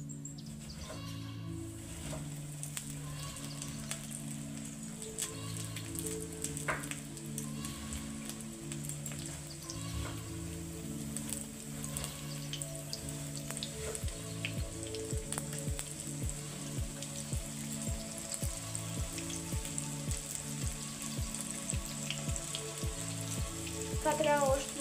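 Small pieces of fish frying in lard for crispy fried fish, a steady dense sizzle with scattered pops and crackles that carries on throughout and grows a little louder toward the end.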